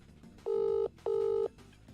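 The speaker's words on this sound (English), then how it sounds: "I'm calling Eggman. It's ringing." A telephone call rings through the handset in two steady electronic ring bursts, each just under half a second long, separated by a short gap, heard alone and fairly clear.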